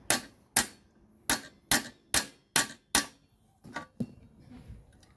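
A hammer strikes a valve rocker arm of a Honda GX35 grass trimmer engine in sharp, evenly spaced taps, seven in a steady rhythm and then a few lighter, irregular knocks, close and clear with no talking.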